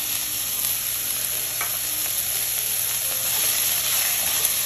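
Beef and shallot sear in a hot pan, a steady loud sizzle and frying hiss running continuously throughout with a few faint stirring scrapes, no talking.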